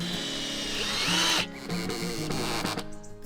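A power driver whirs at high pitch as it drives long screws through a wooden floor frame onto piles for a forest sauna, then slows and stops, leaving brief clicks and knocks.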